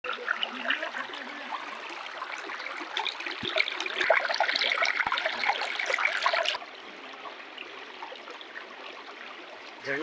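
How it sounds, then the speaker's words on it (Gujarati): A mountain stream at Girnar rushes with a steady, full hiss of flowing water, loud and close, then drops to a softer, even flow for the final seconds, with a few faint clicks. "ઝરણાનો અવાજ આવે છે, કુદરતનો અવાજ અહીંયા સંભળાય છે"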